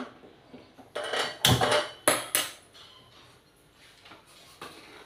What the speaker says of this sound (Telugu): ఒక బాండీ పెట్టుకుందాం అండి.